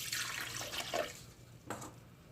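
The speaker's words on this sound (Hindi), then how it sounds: "सबसे पहले हाफ कप पानी इसमें शामिल करेंगे" Half a cup of water poured into a blender or jug for kiwi juice, a short soft liquid pour with a couple of splashy bursts, faint and close, with no talk.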